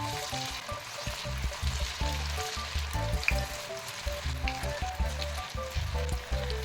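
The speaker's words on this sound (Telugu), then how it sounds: "అలా ఫాస్ట్గా వేగిపోతాయండి, చూసుకోండి." Sweet corn pakoda batter dropped into hot oil, frying with a steady bubbling sizzle and crackle throughout, close and fairly loud, no talking.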